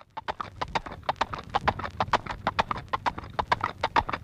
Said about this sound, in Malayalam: ആരോ ഒരു കുതിരവണ്ടി വരുന്നുണ്ടല്ലോ